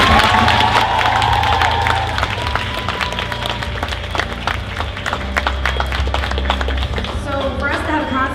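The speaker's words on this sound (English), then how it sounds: "can I get a round of applause for all those awesome contestants of our podcast?" An indoor crowd at a costume masquerade event claps and cheers in a burst of applause that thins into scattered claps, with voices and shouts mixed in.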